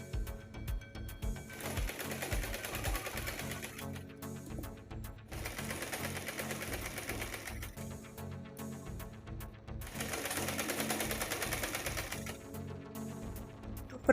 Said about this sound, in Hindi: एक साइड की सिलाई लगाने के बाद अब मैं दूसरी साइड की सिलाई लगाऊंगी।